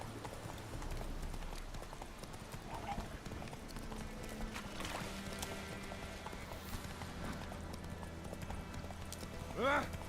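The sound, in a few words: horse hooves clip-clopping in a video game (The Witcher)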